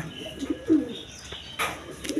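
A pair of Gorra pigeons, one male and one female, give a few soft, low coos close by, short and spaced out over faint background noise.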